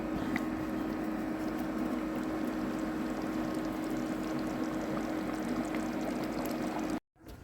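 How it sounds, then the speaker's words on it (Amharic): Water trickling into a pot of lentils cooking on the stove, a steady close pouring hiss with a low hum underneath, cut off abruptly near the end. "ምስሬ እየበሰለልኝ ነው። ውሃ ጠብ እያረኩኝ"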